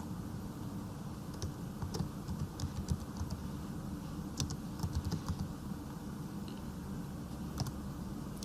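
Typing on a computer keyboard while text is entered in Android Studio, with a steady patter of soft key clicks and occasional sharper taps over a low background hum.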